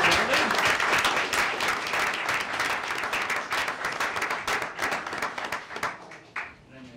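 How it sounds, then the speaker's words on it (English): An audience at a city mayor and council meeting applauds the aquatics team, with dense sustained clapping filling the room before gradually thinning and tapering off at the end. "let's give our aquatics team a round of applause"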